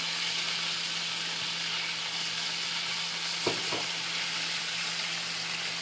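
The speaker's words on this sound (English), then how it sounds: "now I'm going to deglaze this pan with some liquid. In this case, I'm going to use some white wine." White wine poured into a hot pan after searing chicken sets off a steady, loud sizzle and hiss throughout, with a pair of sharp scraping knocks near the middle and a constant low hum underneath.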